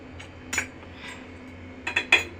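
A metal lid set over a pot of boiled milk on a kitchen stove, several light clinks and clatters near the end following an earlier soft tap, with a low hum beneath.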